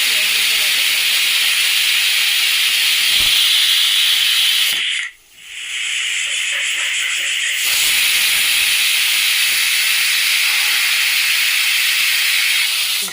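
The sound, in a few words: pressure cooker releasing steam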